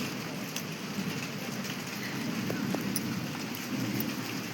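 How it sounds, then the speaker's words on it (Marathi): Rain falls steadily and evenly in a village during the monsoon, a dense hiss of drops on surfaces, with a faint rumble that may be distant thunder. "पाऊस आलाय."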